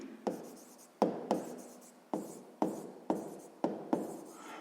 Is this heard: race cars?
no